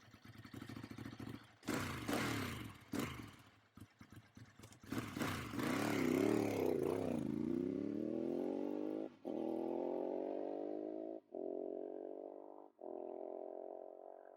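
Motorcycle in a podcast jingle, revving hard through rising and falling bursts cut by brief gaps, then settling into a steady high-pitched drone, fairly quiet overall with no talk.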